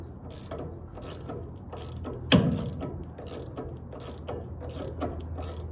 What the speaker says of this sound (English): so we're using a ratcheting 3/4 to tighten this up